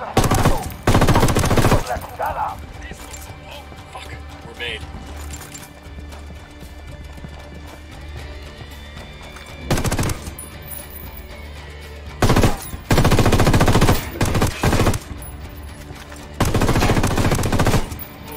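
Gunfire from a firefight in the video game Tom Clancy's Ghost Recon: Wildlands. Loud bursts of rapid automatic fire come in several volleys, with quieter stretches of ambience between them.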